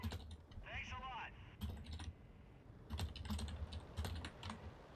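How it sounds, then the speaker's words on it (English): Computer keyboard typing during an online multiplayer tank game session, with bursts of quick clicking keystrokes spread through the clip alongside a brief chirping game sound. "Just typing."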